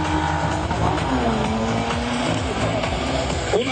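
BMW E36 cars starting a drift show, engines roaring loud and steady with tires squealing throughout, a dense, continuous close sound with no talk.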